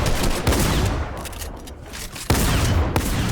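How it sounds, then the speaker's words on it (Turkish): Rapid bursts of gunfire in a shooter video game, dense and loud throughout with a sharper volley near the end, no talk over it. "Şimdi bayağı vurdum onu."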